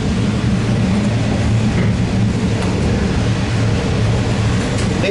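A regional passenger train on the Warrnambool line runs steadily, a loud continuous rumble and roar with faint rail clatter and no voices.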